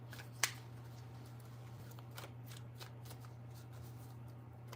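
A deck of tarot cards is shuffled in a series of quick riffles and soft slaps, close and crisp, with a steady low hum in the background and no talking.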